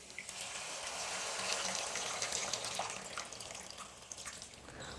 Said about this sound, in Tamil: இப்போ இந்த புளி கரைசலை சேர்த்துடுறேன்.